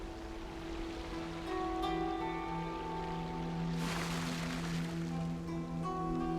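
Splashing through glowing water in Genshin Impact: a soft, washing rush swells midway and fades, layered over steady in-game music.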